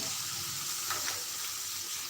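Water is splashed into masala frying in a wok, setting off a loud, broad hiss that swells briefly midway and then settles into a steady sizzle.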